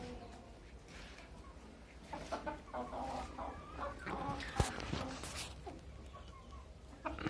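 Sultan chickens and a rooster in a coop give soft, scattered clucks and short calls, close by and fairly quiet, with faint low rustling underneath.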